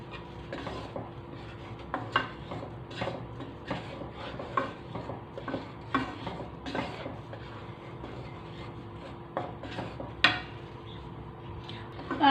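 Gram flour is stirred as it roasts in a pan on a lowered stove for a Mysore Pak sweet. A utensil scrapes and clinks against the pan in a steady, uneven rhythm, close and fairly loud, with no talk over it.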